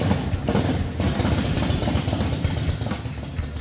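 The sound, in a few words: Harley-Davidson FXR motorcycle engine starting and idling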